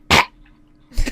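A person imitates a pet cat's cough with two sharp, loud, raspy bursts close to the mic, separated by a short pause.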